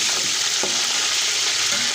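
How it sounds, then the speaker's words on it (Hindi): Chicken pieces frying golden in a pan for chicken pulao, heard as a loud continuous hiss of oil with soft scraping stirs and one or two light knocks, with no talking. "ये देखिए हमारा चिकन फ्राई हो गया माशाल्लाह से।"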